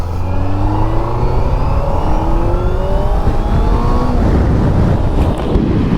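A Honda 4K motorcycle engine revving on a ride, its loud, close note climbing in pitch as the throttle opens, buried in heavy wind rush across the microphone.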